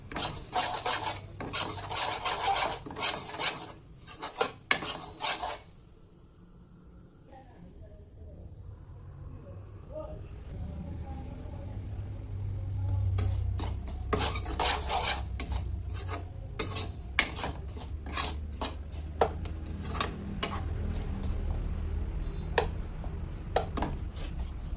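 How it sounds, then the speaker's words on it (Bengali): A thick vada batter of semolina and spices is scraped and stirred in a pot, giving rough rasping strokes with pauses between them. A quieter stretch of low rumbling comes in the middle, and soft talk is heard now and then. "এটাকে নেড়ে চেড়ে নেব।"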